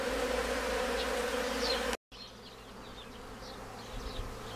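Steady buzzing of many honeybees close by at a salted-water drinker in the morning, a dense continuous drone with individual bees passing, briefly cut by a short gap of silence.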